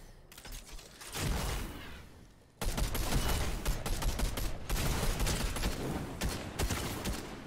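Dense, rapid gunfire in a video game battle, with a burst, a brief near-silent gap, then sustained loud volleys of overlapping shots continuing to the end.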